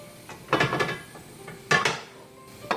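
A frying pan is lifted and set down on a gas stove while making a lentil dal tadka, giving a few clattering metal knocks and scrapes, close and moderately loud, with no one talking.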